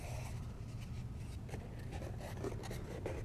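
Stiff cardboard point-of-purchase display scraping and rubbing as it is folded into a box, a steady close rustle over a low hum, with no talking.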